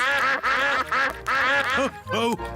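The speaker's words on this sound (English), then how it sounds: "And here come more ducks." A group of cartoon ducks in Peppa Pig quack loudly and repeatedly in a close, bright chorus, with overlapping calls in quick succession.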